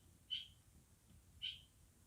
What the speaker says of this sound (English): Got some kind of bird up there talking.